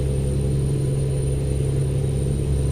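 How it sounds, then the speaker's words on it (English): Steady diesel drone of an International 9400i truck engine in American Truck Simulator, a constant low rumble with a faint high whine, running evenly and close throughout with no talk. "I don't mind the sound of this engine"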